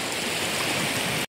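Water rushes continuously in a river stream during a fishing trip, a close, loud, steady wash of noise with no voices, ending abruptly.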